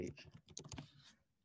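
Computer keyboard typing during a coding lesson: a quick run of close, crisp key clicks for about a second, then a short pause and another burst.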